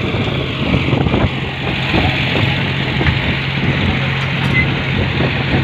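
John Deere 5050D tractor pulling a 16-disc harrow in a field, its diesel engine running steadily at a constant mid-pitched drone with no voices.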